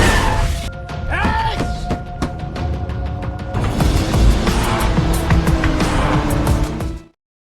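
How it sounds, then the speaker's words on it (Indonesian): A car in a film chase slams into a parked car, with sharp impacts and thuds early on, then a roaring engine and crunching wreckage building loudly before cutting off abruptly. "Mobil Bos Jo menabrak mobil yang terparkir."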